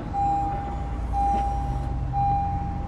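A DW65C fuel pump primes in a 9th gen Civic Si, a steady high whine over low mechanical hum that breaks off briefly and returns, fairly loud and close, with no talking.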